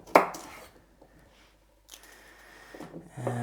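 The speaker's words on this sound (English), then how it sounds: "So I'm gonna cut this carrot in half." A knife cuts a carrot in half on a board: one sharp, loud chop, then quiet with faint handling and a softer knock near the end.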